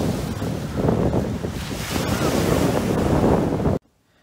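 Surf rolling onto a beach where dogs swim in the sea, a loud roar of breaking waves heavily buffeted by wind on the microphone, cutting off abruptly near the end.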